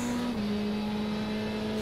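Race car engine from the iRacing sim drones at a steady pitch that steps down once early on, a sustained in-car hum with no talk.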